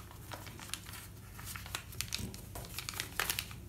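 Paper crinkles and rustles continuously at close range as a sheet is pre-creased and folded for an origami crane, with quick crisp bursts of crumpling.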